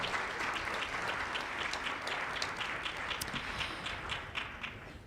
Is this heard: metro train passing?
no